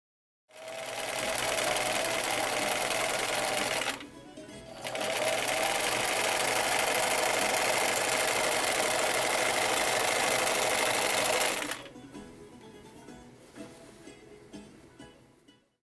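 Sewing machine running in long, steady bursts while stitching wide-leg trousers, loud and close, with a brief pause near four seconds and a stop just before twelve seconds, followed by quieter handling sounds.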